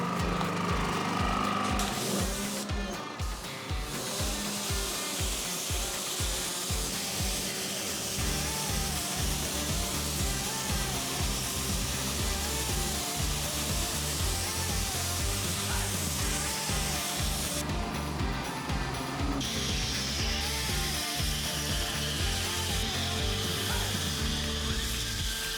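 Pressure-washer water spray rinsing pre-foam off a car's paint during exterior detailing, a loud continuous hiss with an engine-like pulsing rumble in the first seconds and shifting intensity as the spray moves.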